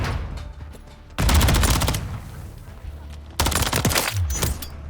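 The Rival 9 submachine gun in Modern Warfare 3 rattles off two long, loud full-auto bursts of rapid rhythmic shots, the game's background ambience running underneath.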